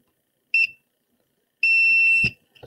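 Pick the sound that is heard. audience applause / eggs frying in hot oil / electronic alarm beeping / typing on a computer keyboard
electronic alarm beeping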